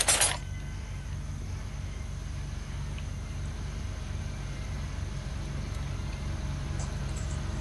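Cars driving in the video game Unturned give a steady, low engine drone that holds evenly throughout after a brief click at the start, with no voices over it.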